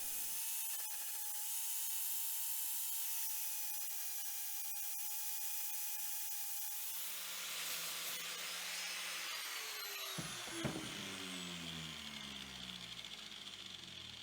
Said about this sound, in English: I'm using a flap disc on the angle grinder to just smooth things out